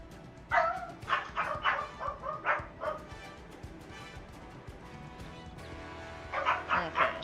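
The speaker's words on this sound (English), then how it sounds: "dogs are barking a little there" Several dogs bark in quick bursts, a cluster of sharp yips early on and another flurry at the end, moderately close with some faint voices underneath.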